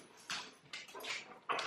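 Dogs whimper and whine after waking from a nap, a few short, close whiny bursts with brief pauses between them, heard alone with no talking.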